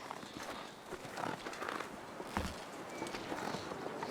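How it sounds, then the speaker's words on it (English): Footsteps crunch steadily through snow in the survival game The Long Dark, a soft continuous shuffle over a windy, hissing ambience. "I just heard a footstep"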